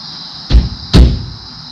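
The door of a 1974 Porsche 914 with a damaged quarter panel is forced open. It gives two heavy, close thumps about half a second apart, the second louder and followed by a short rattle.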